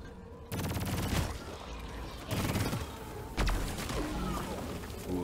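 Rapid gunfire and heavy blasts from the Deep Rock Galactic video game, with bursts of automatic fire, thudding explosions and crackling electrical zaps coming in loud, repeated waves.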